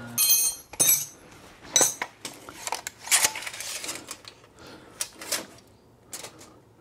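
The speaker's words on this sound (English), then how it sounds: "I'm going to go ahead and tighten up the U-bolt by hand." Metal bolts and a U-bolt on a steering bracket being hand-tightened during a Metalcloak Hi-Steer kit install, giving scattered light metallic clinks and rattles at close range, in irregular bursts with brief pauses between.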